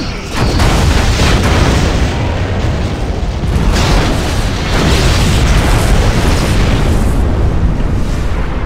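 A simulated enemy ship explodes in a long, loud, rolling blast, with heavy booming rumble and crackling debris sustained for several seconds, no voices.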